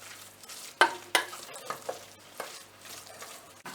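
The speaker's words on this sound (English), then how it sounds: "Give it a" Simmering food stirred in a pan, a soft sizzle running throughout with a few distinct scraping strokes and light clinks, close and quiet.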